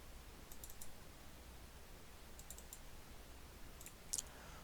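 Faint computer mouse clicks, three quick pairs spaced over a few seconds against a quiet background hiss, with no talking.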